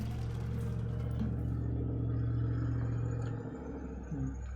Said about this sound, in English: Someone's just driving their truck down the road at a speed that is far too fast for it being 4 a.m.